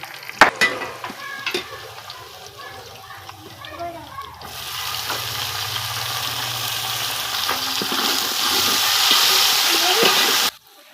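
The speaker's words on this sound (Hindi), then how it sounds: "प्याज हमारा हो रहा है ब्राउन।" Onions browning in a hot pan for dhaba-style kadhi pakoda, giving a steady loud sizzle with stirring scrapes. A voice talks briefly at the start, then the frying carries on alone until it cuts off abruptly.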